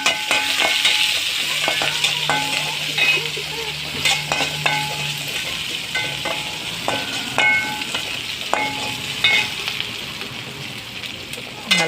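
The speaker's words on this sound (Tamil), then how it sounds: "நல்லா வதங்கட்டும். இன்னும் வதங்கலை, நல்லா வதக்கிடலாம்." Masala sautéing in a pan for a potato and soya chunk curry, with steady sizzling and frying broken by repeated scraping, clinking stirs throughout.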